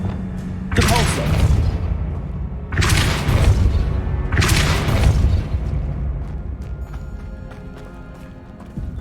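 Heavy Depulso spell impacts in Hogwarts Legacy on PS5, three loud booming bursts spaced about two seconds apart, each with a crackling, rumbling tail, fading into a quieter ambient hum.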